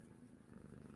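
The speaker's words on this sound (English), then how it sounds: "She's right against my mic, purring, laying up on my desk." A cat lies right up against a desk microphone, purring steadily and close for the whole second, a low continuous rumble with no talking.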